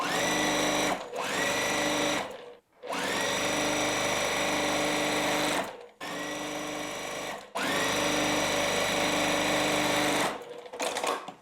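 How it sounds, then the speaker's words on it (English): A sewing machine stitching a fancy nine-patch quilt block, loud and close, running in several sustained whirring bursts separated by short pauses, with no voices. "all I am doing is sewing this fancy 9 patch"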